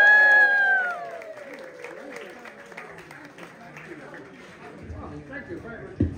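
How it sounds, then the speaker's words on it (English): Audience at a magic show during a Blackpool weekend event breaks into cheering and applause, a broad crowd roar that fades after the first second into scattered clapping and chatter. "Look at that, a big cheer!"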